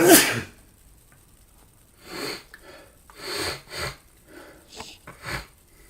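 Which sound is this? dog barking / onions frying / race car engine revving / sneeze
sneeze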